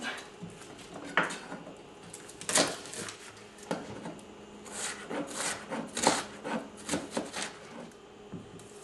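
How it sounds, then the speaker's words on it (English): A knife chops through half of an unusually large onion on a board, giving irregular, close knocks and rasping cuts over about nine seconds, with no talking. "chop the onion."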